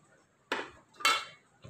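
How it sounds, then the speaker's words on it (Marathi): A cooking pot is set down on a kitchen surface. Two distinct metallic clanks half a second apart, close and fairly quiet, then a faint third touch. "इथे हा मी एक पातेला घेतलेला आहे तो आधी ठेवतो आहे."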